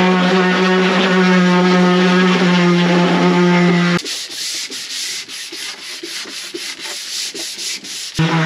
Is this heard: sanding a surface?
yes